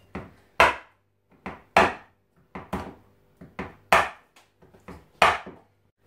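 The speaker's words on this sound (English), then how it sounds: "And then again, I'm just gonna use my knife." A knife chops on a board while making a drip cake with Toblerone and chocolate, about eight sharp, woody thuds in an uneven rhythm, close and clear with no talking.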